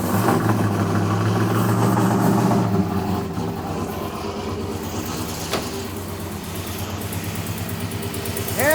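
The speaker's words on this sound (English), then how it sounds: "we have an exhaust leak" A small engine with an exhaust leak idles close by, dropping from a louder rumble to a lighter, uneven putter with ticking irregularities.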